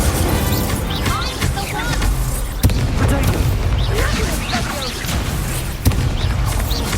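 Incendio fire spells in Hogwarts Legacy erupt in dense, continuous booming blasts, with sharp cracks punctuating a loud, chaotic battle din and a voice talking over it.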